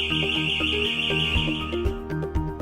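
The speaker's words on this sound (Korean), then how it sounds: "도난 경보 장치가 잘 울리는지 확인해주세요" An anti-theft alarm on an AED storage cabinet rings loudly and steadily, a shrill continuous tone with a pulsing pattern of repeated beeps, close by and with no voices over it.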